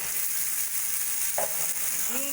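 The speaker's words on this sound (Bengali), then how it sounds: "পোস্ত বাটা দিয়ে দু তিন মিনিট মতো ভেজে নিয়েছি এবার দিয়ে দেবো আমি আগে থেকে কেটে রাখা ঝিঙে" Ridge gourd frying in poppy seed paste in a pan, a steady soft sizzle with a faint scrape of stirring partway through, close and moderately quiet.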